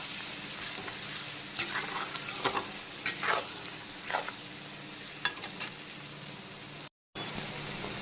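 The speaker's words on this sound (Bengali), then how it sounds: "তো এখন পেঁয়াজটাকে আবারও একটুখানি ভাজা ভাজা করে নিচ্ছি।" Onions fry again in a pan for a spicy mutton and potato curry, giving a steady close sizzle broken by several scraping stirs, with a brief gap near the end and no talking.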